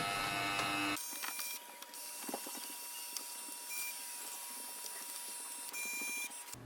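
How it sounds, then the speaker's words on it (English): A Canon Pixma TR7660 printer scanning pages, a steady mechanical whir with ratcheting clicks and small gear ticks running throughout, close and alone with no voices. "wait for the printer to do the scanning"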